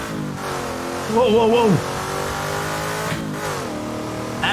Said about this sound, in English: My God, this car is loud.